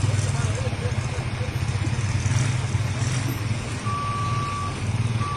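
Trucks and vehicles leave a former Navy facility in Luvianos, with a diesel engine rumbling nearby, a truck's reversing beeper sounding repeatedly and someone talking over it.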